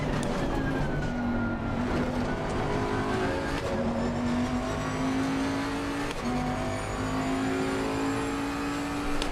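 A race car engine drones loud and steady in Assetto Corsa during a 24-hour endurance race around RBR, its pitch stepping abruptly at a few gear changes while the car stays close throughout.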